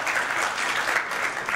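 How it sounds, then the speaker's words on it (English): An audience at an astronomy symposium breaks into dense, loud applause that holds steady for the whole moment. "And I would like you to all please give a round of applause to me."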